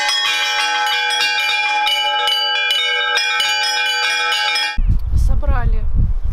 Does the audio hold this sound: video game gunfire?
no